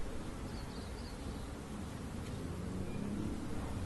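A dense, continuous hum of many honey bees buzzing close by in an open hive being smoked, steady and droning with no voices.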